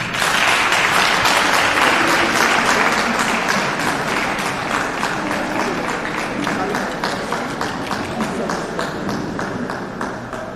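Audience applauds after a Deputy Minister's speech at a G20 civil society national conversation, dense sustained clapping from a large crowd filling the whole stretch, loud and steady, gradually easing slightly toward the end.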